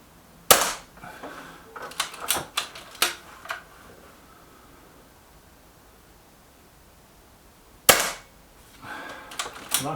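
A Hatsan AT44-10 air rifle fires pellets at a target, giving a few sharp, close cracks spaced seconds apart with quiet gaps between them.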